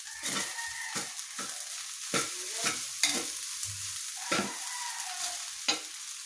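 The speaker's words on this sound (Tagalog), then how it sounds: "Tapos ito na po ang ating kanin na sinasangag na po." Cooked rice for sinangag is stir-fried in a pan after frying bangus, with a steady hiss and sizzle broken by repeated scraping strokes of a spatula, close and fairly loud, with no voices.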